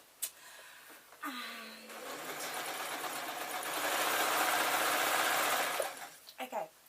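Sewing machine stitching two pieces of a PVC-lined picnic blanket together with white thread, a steady mechanical whirr building and running continuously for several seconds before stopping, with brief handling noises around it.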